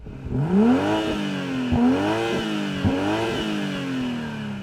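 BMW M340i sports sedan engine revving repeatedly, pitch climbing then dropping in three or four rising pulls, loud and close, with no talking.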